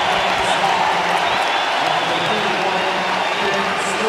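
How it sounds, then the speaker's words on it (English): A steady roar of crowd ovation fills a college basketball arena during a Kentucky vs Missouri game, saluting Missouri senior Kobe Brown, with a commentator's voice talking over the sustained cheering and applause. "listen to the ovation for Kobe Brown"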